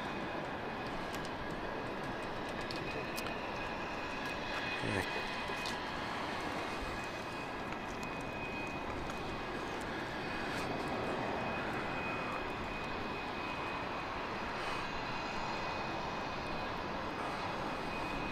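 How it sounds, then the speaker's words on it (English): An airliner arriving from Amsterdam touches down at London City Airport, its engine roar steady and broadband across the whole stretch, moderately distant with a continuous whine; no talking. "Beautiful touchdown."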